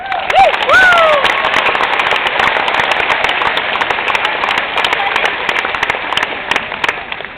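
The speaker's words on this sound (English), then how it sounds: "I wanted to give everybody a round of applause that came and asked a question." An audience at a campus talk claps in a sustained round of applause, dense and loud at first and then easing slightly, with a few whistles near the start.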